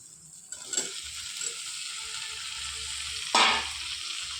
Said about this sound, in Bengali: আমি আলু পটল সয়াবিনগুলোকে ভালো করে মশলার সঙ্গে মিশিয়ে ভালোভাবে কষিয়ে নিয়েছি